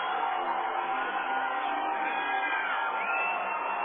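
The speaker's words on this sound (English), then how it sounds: "I'm just not sure if I can be heard amongst the roar of the crowd here at Ray Winder Field." A large crowd at a minor-league baseball championship game at Ray Winder Field roars and cheers in a continuous, distant-sounding swell that holds steady without a break, muffled and band-limited.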